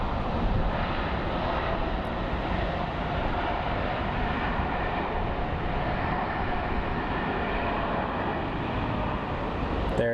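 An Airbus A220 (Bombardier) jet at Phoenix Sky Harbor airport gives off a steady, moderately loud engine rumble with a broadband roar and faint tonal moaning layered through it, heard alone.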